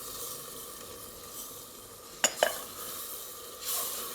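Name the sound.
stirring mixed vegetables with spices and yogurt in a pan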